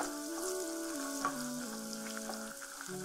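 Onions hit very hot oil in a pan for a Nigerian-style home dish, sizzling and crackling steadily up close, with a faint tonal hum running underneath and no talking.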